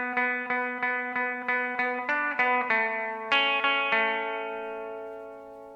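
Electric guitar plays a full pass of a riff, a steady run of picked notes with chorus and echo effects, then a final chord left ringing and fading, with no talk.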